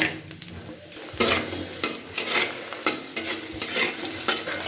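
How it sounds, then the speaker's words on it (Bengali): Lentil dumplings (bori) sizzling in hot oil in a pan, a steady frying hiss broken by repeated scraping knocks of a spatula stirring, close and moderately loud with no talk. "এবার তেলের মধ্যে দিয়ে দিচ্ছি কয়েকটা বড়ি"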